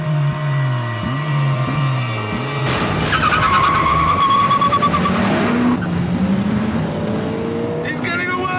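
An engine drones with a low tone, then tires squeal loudly and grind over several seconds as a Honda Civic Type R pushes wide in understeer during a race.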